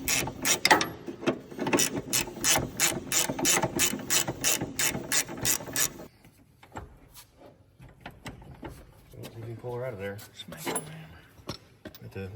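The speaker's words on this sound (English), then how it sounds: "grab that wrench." A ratchet wrench loosens a bolt on a cabover Freightliner truck, giving a fast, loud run of rhythmic clicks for several seconds, followed by quieter metallic handling, with a person speaking near the end.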